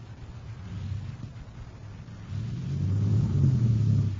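A low engine rumble idles and then swells louder toward the end, a deep heavy drone with no talking.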